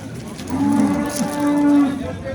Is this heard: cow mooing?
yes